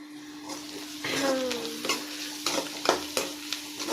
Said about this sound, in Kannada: ಇದು ಪಲ್ಯಕ್ಕೆ ಫ್ರೈ ಮಾಡ್ತಾಯಿರೋದು